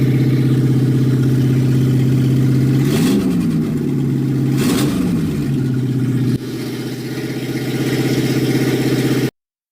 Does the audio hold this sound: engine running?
yes